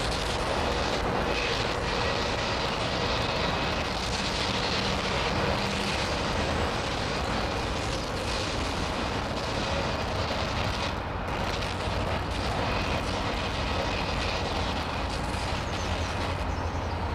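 Jet airliners taking off from runway 27L at London Heathrow Airport, a continuous heavy engine roar and rumble that stays loud and broad throughout, with no speech.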